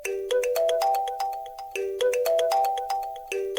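A melodic phone ringtone plays loudly and alone, a bright chiming tune repeating in two near-identical phrases, signalling an unknown number calling at night.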